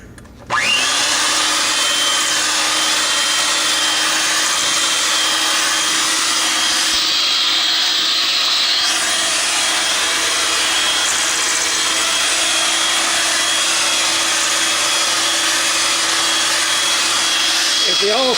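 An electric mixer runs steadily on cheesecake batter, a loud continuous whirring drone that holds for the whole stretch with no voices.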